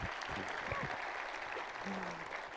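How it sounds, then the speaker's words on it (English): Audience clapping at a Laravel tech conference talk in India, a steady spread of hands across the room for a couple of seconds, moderately loud, ending in a sharp burst. "We can clap."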